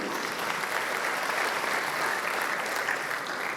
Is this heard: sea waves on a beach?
no